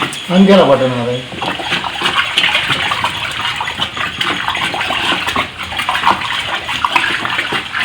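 Water being stirred by hand with homemade fabric softener in a container, a steady sloshing and swishing that runs throughout, with someone talking over it.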